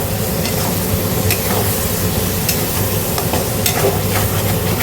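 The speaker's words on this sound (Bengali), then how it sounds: "চিংড়ি ভাজার তেলে এগুলো সব কষানো হচ্ছে" Ground spices with salt, sugar, cumin, coriander, turmeric and garam masala being stir-fried in leftover prawn frying oil, giving a steady close sizzle with scraping stirs throughout and no talk.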